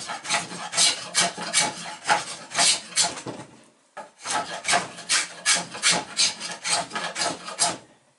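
A spokeshave shaves wood along a boat hull in steady rhythmic strokes, each a close, rasping scrape, with a short pause midway before the regular strokes resume.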